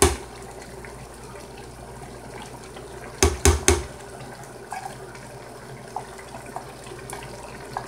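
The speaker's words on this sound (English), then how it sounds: "I'm gonna fill both of these cans up with hot water and add that." Hot tap water running into two large empty tomato paste cans at a home kitchen sink, a soft steady faucet stream with a few sharp metallic clanks of the cans midway and small knocks after.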